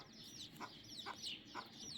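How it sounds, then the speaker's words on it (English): A rooster clucking in a farmyard, a series of four short, evenly spaced clucks heard fairly close but quiet, with no talking. "So Peepers is a rooster"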